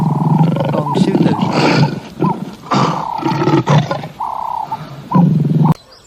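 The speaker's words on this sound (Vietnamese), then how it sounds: "con sư tử," A lion roars in a series of deep, loud, rumbling bursts with short gaps between them, close and filling the whole stretch, ending abruptly.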